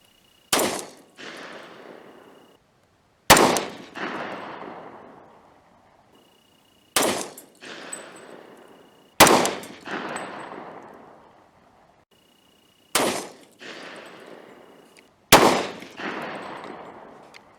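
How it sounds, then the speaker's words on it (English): A Glock 21 pistol fires Underwood Xtreme Penetrator ammunition outdoors in six loud, sharp reports spaced a few seconds apart, each followed by a decaying echo and ringing tail. "First, out of the Glock 21, Underwood Ammo, Xtreme Penetrator, chronograph test"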